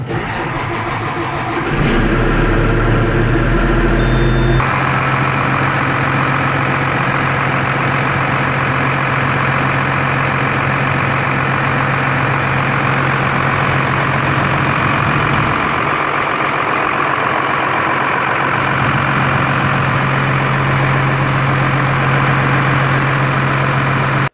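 A vehicle engine, just after an oil change, cranks and starts, then settles into a loud, steady, close idle with a low constant rumble that runs unbroken for over twenty seconds, no one speaking.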